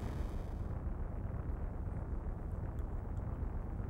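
Explosion from the Xenogears video game: a continuous low, rumbling roar with dense broadband noise, steady and loud throughout with no talk over it.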